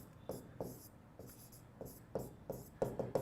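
Chalk or marker writing on a classroom board in a physics or chemistry lesson, producing soft scratchy strokes in short irregular bursts over a quiet room.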